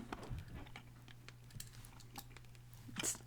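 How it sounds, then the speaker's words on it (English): Candy being chewed close to the mouth, with irregular wet clicks and crackles scattered over a steady low hum, one louder crunch near the end. "I'm chewing a piece of candy right now."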